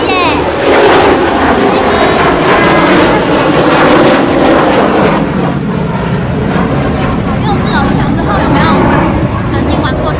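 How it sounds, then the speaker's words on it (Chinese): An airplane flying low overhead above a dog park in Taipei's Minsheng Community, a loud sustained engine roar filling the whole stretch while a voice talks beneath it. "飞机耶。"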